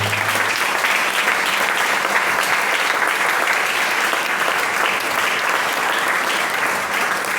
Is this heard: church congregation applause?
yes